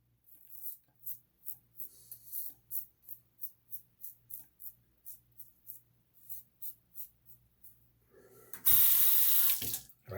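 A bathroom tap after a wet shave, heard first as a run of soft rhythmic splashes and clicks, then a loud gush of running water near the end, close by with no talk.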